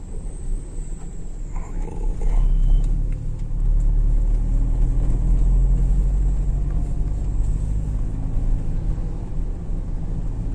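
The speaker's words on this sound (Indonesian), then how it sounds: "Ini ada bis 3/4 Cepu Ngawi atau Padangan Ngawi juga ada" Three-quarter-size bus on the road between Cepu and Ngawi, a loud low engine rumble passing close with steady road noise and a faint high whine, no voices.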